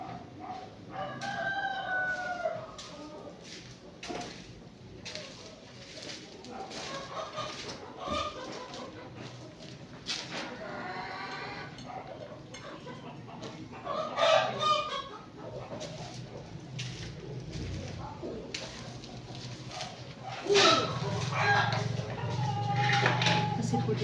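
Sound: roosters crowing and chickens clucking

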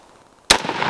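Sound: 5.56 rifle shot, 62 grain, 16 inch barrel

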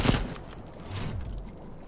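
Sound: gunfire in the video game Mortal Kombat XL

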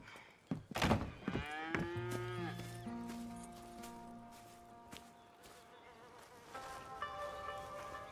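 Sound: cows mooing on a farm in Red Dead Redemption 2 video game

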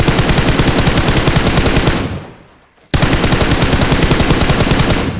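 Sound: gunfire in the video game PUBG Mobile

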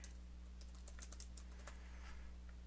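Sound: typing a name on a computer keyboard

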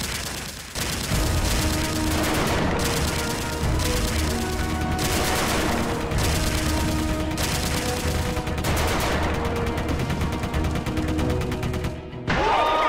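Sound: guns being fired in a group shooting game

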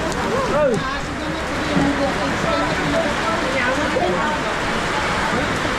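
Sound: heavy rain falling

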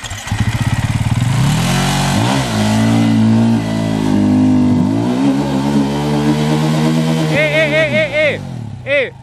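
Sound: enduro motorcycle engine revving

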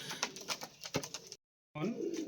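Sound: pigeons cooing

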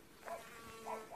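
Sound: bees buzzing

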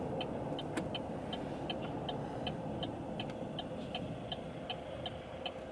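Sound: car driving

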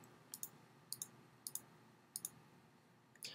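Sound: computer mouse clicking check marks

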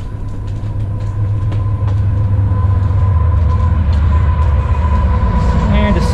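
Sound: CSX train passing on the main line

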